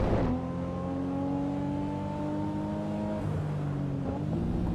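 Race car engine in the Assetto Corsa Evo racing game, holding a steady high rev with a clear pitch step near the end as a manual clutch upshift lands, loud and continuous with no talk over it.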